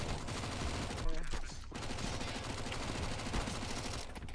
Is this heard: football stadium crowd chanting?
no